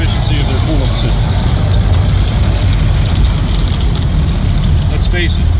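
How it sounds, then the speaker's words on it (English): A 1930 car engine idles high in neutral with a loud, steady, close rumble that runs throughout. "So you're in neutral, and yeah, it's idling high again."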